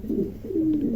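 A pair of exhibition pigeons, a checker hen and a Gandolesian cock, coo close by in two low, rolling phrases that fill the second without pause.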